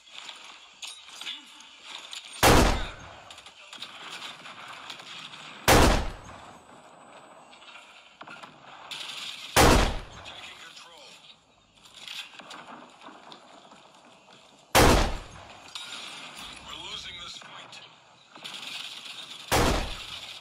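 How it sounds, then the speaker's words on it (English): Video game weapons fire in a comedy skit: five loud, sharp gunshot bursts spaced a few seconds apart, each standing out over a low, busy background with faint voices. "Weapons fire, clear to engage."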